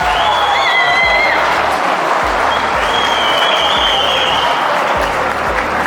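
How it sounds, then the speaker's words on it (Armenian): Applause from a crowd at a wedding celebration: loud, dense, sustained clapping filling the room, with a few whistles or cheers above it. "ծափեր տվեք"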